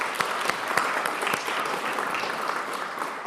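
A church congregation claps together in a dense, steady round of applause, close and continuous for a few seconds with no voices over it.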